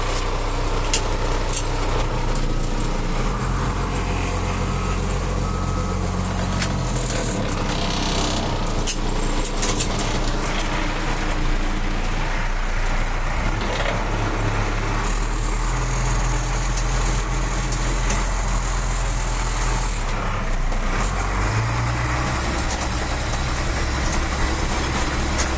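A 1995 International 4700 chipper dump truck with a DT466 diesel and Allison AT545 automatic drones steadily on a test drive, its engine note rising and falling with load in a continuous close rumble, no talking.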